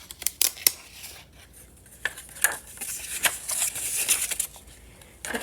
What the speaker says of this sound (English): I suppose we could probably just snip it